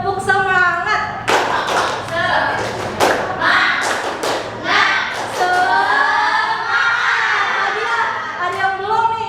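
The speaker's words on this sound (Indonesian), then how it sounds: "Ayo, tepuk semangat." A school class claps out a rhythmic spirit clap in a classroom, with sharp, close hand claps and thumps in a patterned beat, mixed with children's excited voices and shouting.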